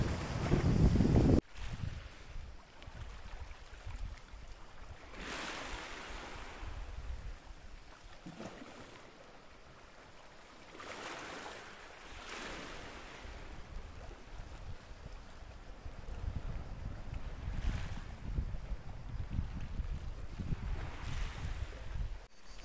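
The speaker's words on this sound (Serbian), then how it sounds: "Prosto čujete vodu, uživate, čista meditacija." Sea water lapping at a quiet Montenegro beach, soft washing surges rising and falling over about twenty seconds with some wind noise.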